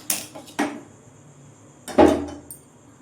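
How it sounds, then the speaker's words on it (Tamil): A few clanking metal knocks as a cooking pot is set down on a stove, the last contact heaviest, with quiet pauses between. "இப்போது ஸ்டவ் ஆன் பண்ணி பாத்திரம் வச்சுக்கலாம்"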